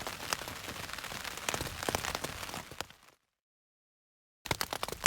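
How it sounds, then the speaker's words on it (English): Steady rain falling, a quiet constant patter with scattered louder drops, cutting to silence for over a second before the pattering resumes. "I waited till about 7 to see if maybe some of the rain would stop, but it seems pretty steady"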